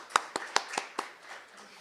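An audience at an international ecosystem services symposium claps: a handful of distinct, fairly sharp claps in quick succession that fade after about a second, sparse rather than a full ovation.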